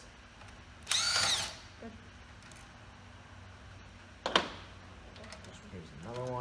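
An impact gun zips bolts off a quarter midget racing motor in two short, loud bursts about three seconds apart, with a ratcheting rattle near the end and a brief spoken word between.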